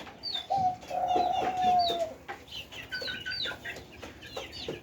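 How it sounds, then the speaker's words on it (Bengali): A close dove gives low, drawn-out cooing calls, with a few softer chirps and clucks from other birds around it on a rooftop. "যে ঘুঘু পাখিটা ডাকতেছে"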